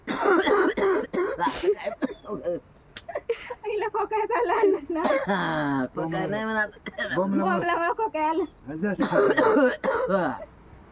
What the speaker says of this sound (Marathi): आई खोकली